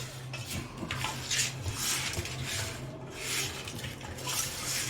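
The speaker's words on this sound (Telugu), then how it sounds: "ఇవన్నీ వేసి ఇలా చేతితో బాగా కలుపుకోవాలి" Fish pieces being mixed with spices by hand in a vessel, giving a steady close rustle of wet squelching and occasional clinks against the bowl throughout.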